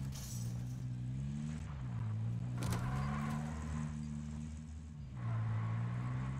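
A car ride in the video game Warzone 2, a steady low engine drone with harmonic bands, a shifting pitch, a brief crash-like burst midway and a rise near the end.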